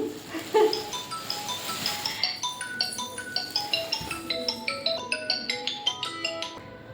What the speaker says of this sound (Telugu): మధ్యలో ఫోన్ వచ్చిందండి ఫోన్ వచ్చింది